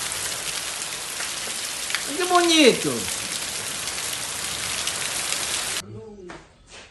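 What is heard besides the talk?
rain falling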